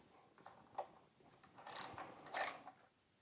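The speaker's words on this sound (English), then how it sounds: "Now I'm going to remove these 2 bolts that hold the fender to the tail light housing" Two size 8 bolts coming off the rear fender of a Royal Enfield Interceptor 650 under a ratchet: faint, close clicking pawl ticks, then two short louder bursts of ratcheting near the end.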